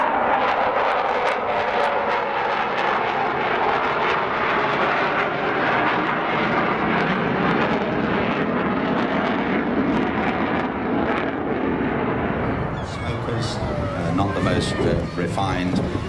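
Avro Vulcan XH558 delta-wing jet bomber flying a display at the Scottish Airshow 2015, a loud continuous roaring engine rumble that thins toward the end, with commentary heard faintly beneath.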